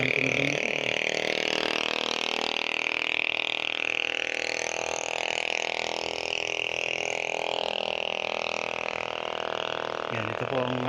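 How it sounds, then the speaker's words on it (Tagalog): A loud motorcycle engine runs near a roadside frontage by a farm lot in Pila, Laguna. Its steady, rumbling drone continues unbroken for about eleven seconds, with no pauses. "So napakaingay ng tunog ng motor."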